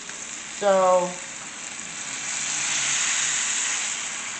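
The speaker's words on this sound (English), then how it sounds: "You just want a quick sear." A boneless leg of lamb sears in a hot pan, a steady broad sizzle that swells slightly partway through, with a short spoken word near the start.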